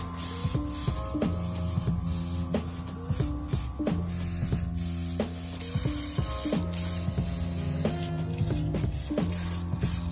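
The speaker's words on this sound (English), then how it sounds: "I am going to be using my airbrush" An airbrush sprays scarlet paint onto a custom Omni-Man DC Multiverse action figure, making a fairly soft, continuous hiss with short pauses. Tonal background music plays throughout.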